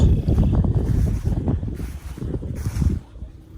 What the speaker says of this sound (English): No matter which way you're fucking standing, you always gotta have wind in your face.